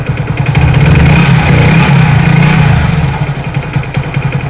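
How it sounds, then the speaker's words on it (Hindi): A Hero HF Deluxe BS6 motorcycle engine idles steadily after an adjustment, a close, even low putter that swells slightly and then settles, with no talking over it. "परफेक्ट तरह से आपको आवाज़ सुना दें। यहाँ गाड़ी स्टार्ट है,"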